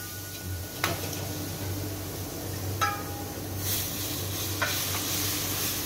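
Chili powder, mustard seeds and fenugreek in hot oil for mango pickle sizzle softly and steadily while being stirred, with a few light clicks of the spoon against the pan.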